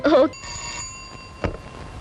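A telephone rings in an office during a Telugu comedy film scene: one short electronic ring tone, fairly faint, following a brief burst of voice at the start.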